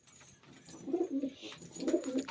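Pigeons in a home loft coo in two soft, low, rolling phrases, close and clear with no talk over them.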